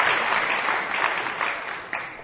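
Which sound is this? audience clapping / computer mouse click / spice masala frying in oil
audience clapping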